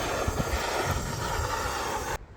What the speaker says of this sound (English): It's a blower from an electric spray gun and it works brilliant.